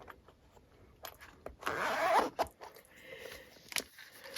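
Zipper on a planner's inner compartment pulled open, a short raspy zip near the middle among quiet handling clicks and rustles, close and fairly faint.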